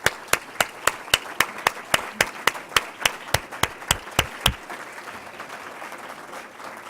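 An audience at a city law breakfast applauds staff members: loud, evenly spaced claps from someone close by ring over softer crowd applause, then the near clapping stops and the room's applause fades out.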